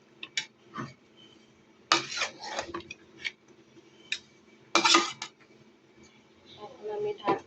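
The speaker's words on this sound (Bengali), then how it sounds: "আমি ভালোভাবে একটু নাড়াচাড়া করে দিব" Bottle gourd pieces being stirred into cooked rohu fish in a pan: scattered scrapes and clinks of a spoon against the pan come in short bursts, with a voice talking softly in between.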